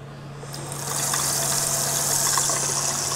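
Water rushing through newly fitted motorhome kitchen sink plumbing for the first time, a steady hiss that swells after a second into a loud continuous gush over a low pump hum.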